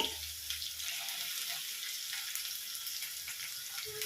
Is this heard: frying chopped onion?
yes